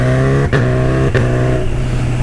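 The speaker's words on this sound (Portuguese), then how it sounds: "Tá insana a troca de marcha da CB1000, rapaziada." A Honda CB1000 motorcycle roars loud and close while riding, its steady engine note broken by two quick gear shifts, each a short dip and jump in pitch.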